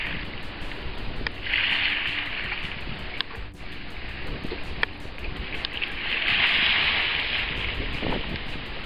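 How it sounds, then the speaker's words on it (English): Open Atlantic Ocean water lapping and washing around a small ocean rowing boat at night during a solo crossing, a soft steady swash with gentle surges and occasional faint clicks, with no talking. "I've just been sat for 15 minutes just listening to the ocean."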